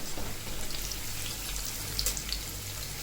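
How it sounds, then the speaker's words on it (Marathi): Corn bhaji fritters sizzle steadily in hot oil over a medium flame, a continuous crackling hiss with faint popping, heard close and alone without talk. "ते मिडियम फ्लेमवरती तळून घ्यायचं"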